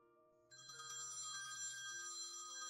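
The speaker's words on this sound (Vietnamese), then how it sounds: "Chờ tôi một chút. Tôi nghe điện thoại đã." A telephone bell rings in an animated comedy office scene, starting after a half-second of quiet and then continuing loud and steady to the end, with a low background tone beneath it.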